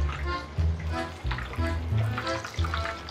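Chili shrimp sauce bubbling in a pan as it comes to the boil, a busy wet simmer and sizzle with irregular pops, fairly close and steady throughout.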